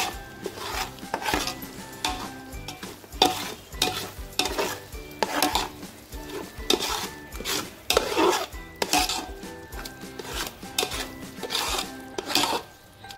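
A spatula stirs two packets of pav bhaji masala through the mixture in a pan, making repeated rhythmic scraping and rubbing strokes over a light sizzle, close by and without speech.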